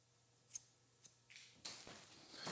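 Scissors snipping hair during a medium-length haircut, a few quiet, isolated metallic snips followed by a brighter, closer cut near the end, with no talking.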